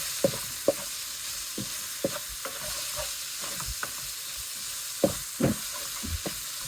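Green chilli, ginger and garlic saute in a pan with a continuous hissing sizzle and repeated sharp scraping taps of a spoon stirring against the pan, close and clear without talk.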